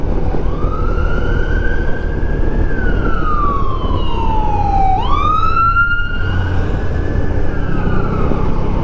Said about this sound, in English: Ambulance. That ambulance that was in